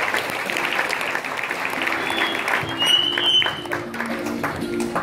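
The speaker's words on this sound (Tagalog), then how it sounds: "milyong palakpak ulit para kay Powerball." An audience applauding at a talk event, a sustained patter of clapping hands with a few voices mixed in beneath it.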